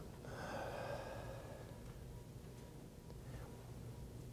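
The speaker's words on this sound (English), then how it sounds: "Breathe out." A room of people exhaling together during a group breathing exercise, a soft breathy rush that swells briefly at the start and then fades into quiet room tone, with no talking.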